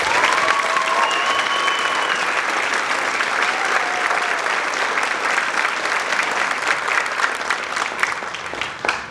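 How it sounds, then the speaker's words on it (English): Steady, dense applause from a concert audience for student band members at a school winter band concert, loud and sustained for about nine seconds, with faint cheering or whistles over the clapping and a slight taper at the end. "So can we give all the students a round of applause?"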